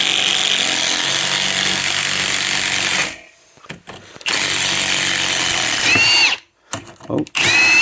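A power tool works loose WD-40-soaked 10mm bolts on a Sierra RS Cosworth fuel pump cradle, a loud continuous whir broken by two brief pauses, close up.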